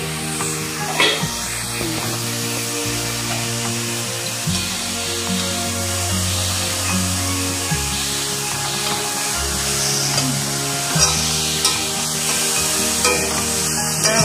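Broccoli stir-frying in a pan for a Bengali-style fry, a steady sizzle with scraping stirs and occasional clatter of the spatula, fairly close and continuous throughout with no talking.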